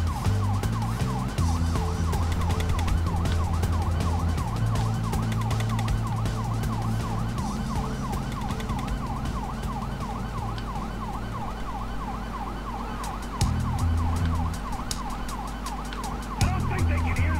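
A wailing police siren in the video game GTA 5 cycles steadily up and down over a continuous engine roar, loud and close, with no talking.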